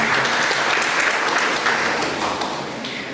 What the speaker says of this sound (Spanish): pido al público brindarle nuevamente un fuerte aplauso